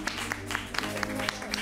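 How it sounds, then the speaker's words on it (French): A crowd at a fashion showcase in French Guiana applauds a designer's models, a fairly faint, steady patter of many hands with occasional sharper claps over a low background hum. "Applaudissez."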